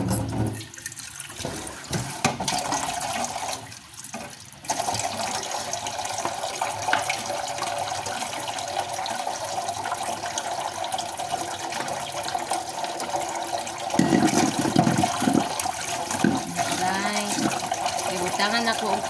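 Water runs from a tap while a container is washed, a continuous close splashing stream that goes on steadily, with people talking over it.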